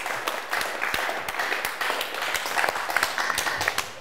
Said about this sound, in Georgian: აპლოდისმენტები აბერტოს და მთისფერცებს.